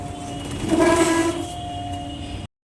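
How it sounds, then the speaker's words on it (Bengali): A train pulls into a station with a loud rumble and a sustained tonal horn-like whine that swells and fades, ending in a sudden cutoff. "ট্রেন ঢুকে গেছে"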